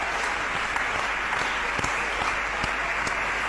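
A crowd claps in a church service, a continuous broadband wash of applause with a few sharper individual claps standing out, steady and fairly loud throughout.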